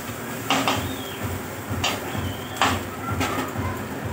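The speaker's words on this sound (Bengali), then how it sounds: "অল্প একটু দেওয়ার পরে এরকম নাড়িয়ে নেবে, যাতে নিচেরগুলো ওপরে চলে আসে।" Chow mein noodles stirred in a pan, with a spatula scraping the metal in a steady rhythm of short bursts about every half second, close and clear.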